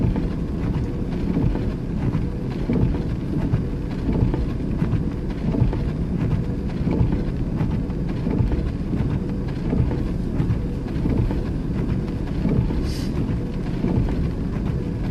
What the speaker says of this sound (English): Watching the ice storm.